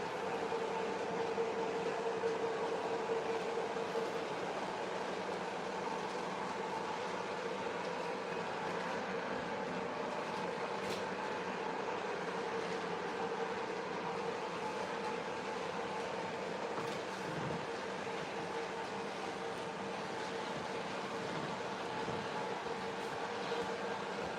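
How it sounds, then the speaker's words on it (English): A spooky-themed model train set runs with a continuous, even rumble and whir that stays steady and moderately close for the whole stretch, with no talking. "Getting the spooky train set up."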